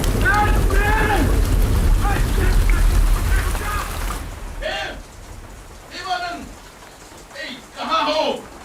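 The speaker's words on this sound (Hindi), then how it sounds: "अरे बाहर आओ, बारिश हो रही है" Steady rain falls outdoors as a dense, even hiss, loud at first and then softer. Voices talk over it throughout.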